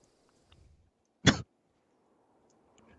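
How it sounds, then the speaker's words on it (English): A single short cough close to the microphone, alone against near silence. "Sorry, I shouldn't get coughed down the microphone"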